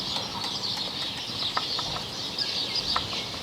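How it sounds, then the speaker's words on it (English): Chickens in a backyard tangerine garden, with soft clucks and a few brief wing flutters amid a steady high outdoor hiss, moderately close and without talk. "Making sure the chickens don't come out."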